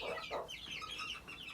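Backyard chickens cluck nearby in a short burst of overlapping, warbling calls from several birds, close and clear.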